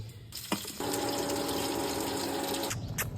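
Water gushes steadily for about two seconds onto a pile of mixed leaves, including guava, lemon, neem, betel and curry leaves, a close, even rushing stream that starts and stops abruptly.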